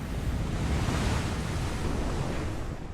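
Enormous Pacific ocean waves whipped up by an intense tropical cyclone: a loud, continuous roaring wash of surf and raging sea, thick with buffeting wind, sustained throughout without any voices.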